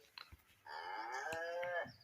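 A single long, steady cow moo from the video game Green Farm 3, harmonic and close, holding for over a second after a few brief soft clicks.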